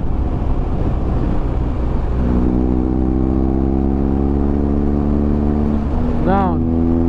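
A 2023 BMW R1250 GS motorcycle engine holds a steady, loud drone while riding, then near the end a quick-shifter downshift brings a short, sharp rev blip with a rising and falling pitch.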